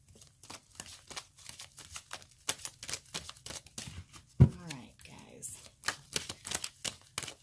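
Tarot cards being shuffled and riffled: dense, crisp papery ticks and flutters in irregular bursts, close up, with a voice talking at times.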